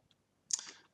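A single quiet, close computer mouse click heard alone, preceded by a tiny faint tick.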